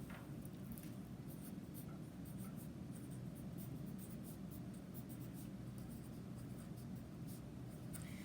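A pen scratches a title onto plain white paper in quick, short strokes, soft and close, with small pauses between bursts over a faint steady background hiss.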